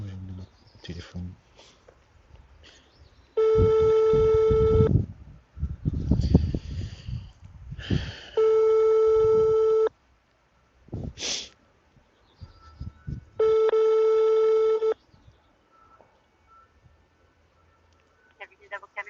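A telephone call ringing on the line to a law office: three long, steady ringback tones separated by pauses, with a person breathing, murmuring and talking quietly in between.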